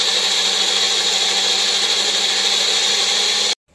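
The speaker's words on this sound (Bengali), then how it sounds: "কতক্ষণ মিক্সিটা চালালাম, তারপর গিয়ে পোস্ত পেস্ট হলো" A mixer grinder blends poppy seeds, green chilli and tomato into a paste, a loud, steady, harsh whirring drone that runs unbroken and then cuts off abruptly at the end.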